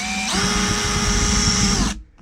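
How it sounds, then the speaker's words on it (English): Power drill boring a hole partway up a plastic bucket for a chicken coop watering system: a steady high whine kicks in after a brief start, holds evenly under load for about a second and a half, then cuts off abruptly, close and loud. "it's no good drilling halfway up the bucket"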